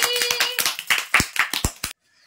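A quick burst of about a dozen hand claps, close and sharp in a quick rhythm, ending abruptly with a second of near silence.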